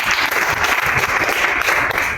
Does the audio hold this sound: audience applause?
yes